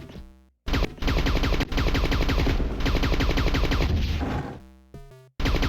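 Rapid video-game gunfire in Corridor 7, a dense burst of repeated shots lasting several seconds, loud and close, with short synthetic tones before and after and no talking.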